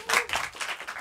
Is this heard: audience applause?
yes